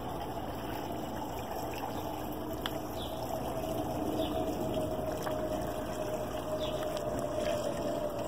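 Water emptied from a can into a hole on a farm, a steady pouring gush that stays even and unbroken for several seconds, faint and without talk.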